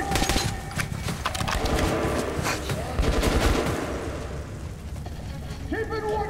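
Gunfire in the video game Metro: Last Light, rapid bursts of shots crackling across a busy battle soundscape, with a voice speaking over parts of it.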